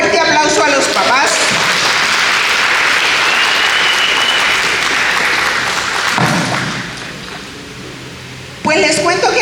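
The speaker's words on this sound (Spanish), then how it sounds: "Vamos a darle un fuerte aplauso a los papás." A church congregation applauds the fathers with loud, dense clapping and some cheering that fills most of the stretch, then fades before a voice returns near the end.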